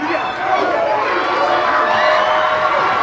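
A wrestling arena crowd cheers and roars steadily and loudly, a dense wash of voices with whoops throughout the short stretch.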